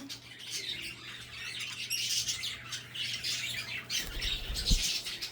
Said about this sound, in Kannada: ಇದೆಲ್ಲ ತುಂಬ ಕಲರ್ಫುಲ್ ಆಗಿರುವಂಥ ಬರ್ಡ್ಸು